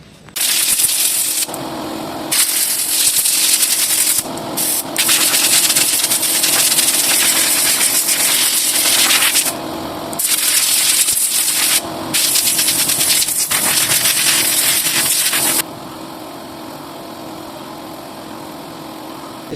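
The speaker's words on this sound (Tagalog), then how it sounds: "Bugahan natin ng compressor guys." Loud bursts of compressed air from an air compressor blowing out the air filter of a Toyota Wigo, several long hissing blasts separated by short pauses, ending in a steadier, quieter rush.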